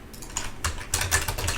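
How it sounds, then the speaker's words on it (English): Quick bursts of keystrokes on a computer keyboard, typed in uneven clusters at close range with nothing else heard. "let me just type this in chat."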